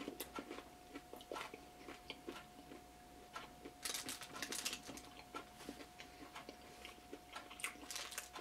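A crispy Taco Bell Crispinata is bitten and chewed, giving faint, close crunches and crackles in an irregular series over a quiet background with a thin steady tone.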